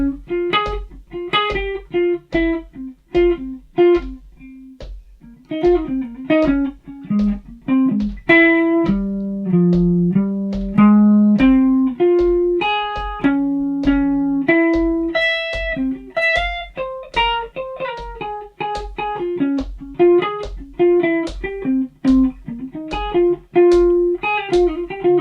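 An electric guitar plays jazz-style single-note lines and chord tones, a long run of clean plucked notes with a steady pulse, close and prominent with no talking.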